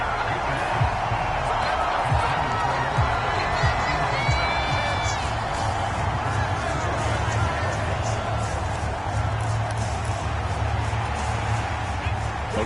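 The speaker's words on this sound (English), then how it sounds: "this crowd doing their best to make a lot of racket" Stadium crowd noise from a PS4 football video game: a dense, continuous roar of fans with scattered whoops and cheers, steady and loud throughout.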